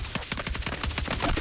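Rapid automatic gunfire in a video game, a fast rhythmic burst of close, sharp shots fired at a sniper, steady for over a second with no talk over it.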